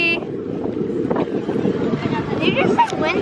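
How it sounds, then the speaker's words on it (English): Wind gusts rumble and buffet the microphone at a beach, a steady low blustery roar with people talking over it. "It's windy."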